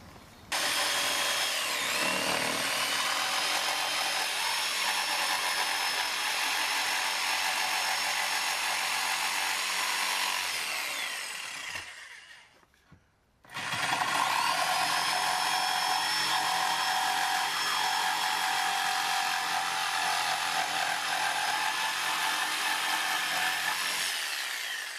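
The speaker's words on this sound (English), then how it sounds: "I just need to use the jigsaw and cut those out" A jigsaw fitted with a fast-cutting blade saws through wood for a medieval pillory, a loud sustained buzzing that stops briefly midway and then resumes for another long cut.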